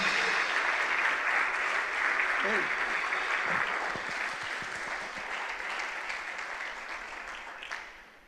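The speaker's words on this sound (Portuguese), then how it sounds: "Aplauda Jesus." A church congregation claps steadily during a worship service, dense broadband applause that gradually tapers off, with a few voices and cheers mixed in.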